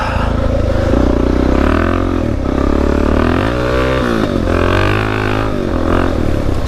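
A Suzuki DR-Z dirt bike rides a trail, its engine loud and close, revving up and down in repeated surges with some clattering over rough ground.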